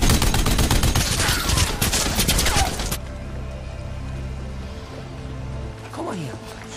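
Gunfire in a Nazi war film, a dense roaring fusillade of rapid shots and bursts that cuts off abruptly partway, followed by a quieter tail with scattered movement noise.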